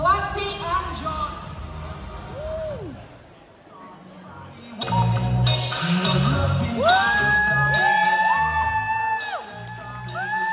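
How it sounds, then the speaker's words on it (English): A live podcast audience at a convention whoops, shouts and cheers loudly, with crowd noise swelling after an announcer's voice and continuing under it. "I want to hear your biggest round of applause as we welcome Clancy and John."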